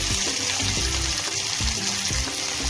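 Curry leaves and chopped onions frying in hot oil while bitter gourd fry is being prepared, giving a steady close sizzle with a few soft clinks of a utensil against the pan.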